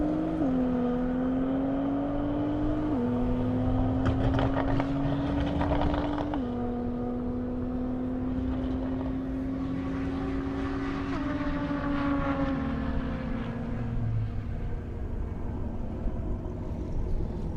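A Nissan GT-R Nismo drag racing on a half-mile airport airstrip, heard as a steady loud engine drone with rising gear-shift steps in pitch over about seventeen seconds, with no talk.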